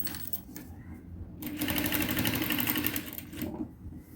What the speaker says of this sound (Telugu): ఇలా కుట్టేసుకున్నాం కదా